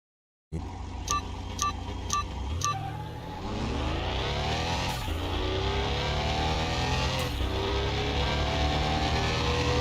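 A Dodge Hellcat wide body in Car Mechanic Simulator 2021 revs loudly, with a few short beeps at the start before the engine climbs and roars steadily through rising gear pulls, close and alone.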